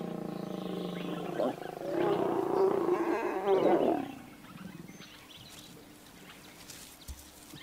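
A white lion in Kruger gives a deep, rumbling roar that swells for about two seconds and then fades into quieter ambient wildlife sound.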